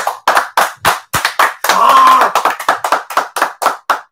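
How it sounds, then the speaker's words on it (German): A single person clapping on a livestream, about a dozen sharp, close, evenly spaced hand claps with a brief voice breaking in near the middle. "Einer Applaus."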